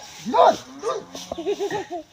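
A dog gives a few short yips and whining bow-wow calls in quick succession, close and fairly loud, with voice-like tones mixed in.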